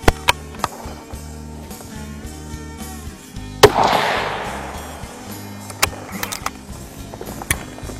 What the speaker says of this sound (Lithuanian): Padarom po 2 šūvius.